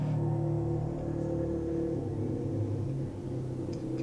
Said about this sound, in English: Loud ass truck outside my house.